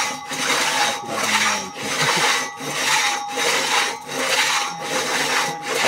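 A hand saw cuts through wood at a woodsmen class: steady rhythmic rasping strokes, about six even pulls at a close, loud level, with no talk.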